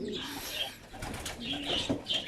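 A young pigeon kept in a home loft gives soft, low coos close by, mixed with faint fluttering and bird chatter in the background.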